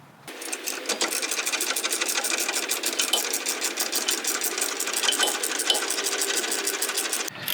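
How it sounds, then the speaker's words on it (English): A 10mm socket spins a bolt loose on a Miata rear brake caliper with a fast, steady mechanical buzz of rapid clicks that runs unbroken for about seven seconds, close by, then stops. "put the 10mm socket right here, and you will unscrew this bolt down here"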